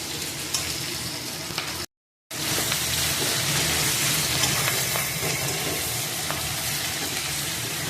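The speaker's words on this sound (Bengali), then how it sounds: "সেইগুলো হালকা করে ভেজে নেওয়ার পর পেঁয়াজটা তুলে দিয়েছি।" Onions sizzle in a frying pan with bell pepper while being stirred, a loud, continuous hiss and crackle close by. It breaks off for a moment, then carries on.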